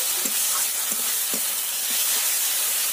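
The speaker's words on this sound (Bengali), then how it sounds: "পেঁয়াজ, টমেটো, রসুন আমার ভালো করে ভাজা হয়ে গেছে।" Onion, tomato and garlic fry in a pan for chicken do pyaza, with a loud, continuous hissing sizzle, broken by occasional soft stirring clinks, close up.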